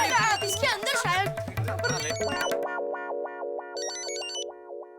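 Mobile phone ringtone in a Hindi comedy scene, a bright repeating electronic melody that starts midway after people talking, then rings alone in a steady pattern with a higher chime layered on near the end.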